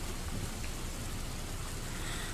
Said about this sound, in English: Sure enough, rain falls softly onto the school grounds, and the sky is tinged gray.